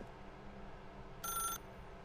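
A telephone ringing in the video game The Stanley Parable, a single short electronic ring burst that is faint and brief over a quiet low hum.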